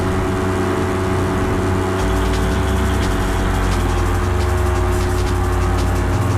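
A steady video game vehicle engine hum with a low rumble holds near top speed throughout, continuous and fairly loud, with no talking.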